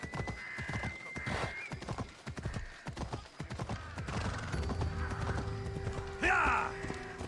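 A horse gallops in Assassin's Creed Odyssey, its steady hoof clatter joined by a whinny near the end, with people talking over the first half.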